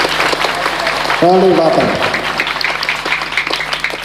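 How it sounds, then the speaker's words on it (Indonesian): Audience applause at a religious gathering, a steady wash of clapping running throughout, with someone speaking over it briefly. "Tepuk tangan."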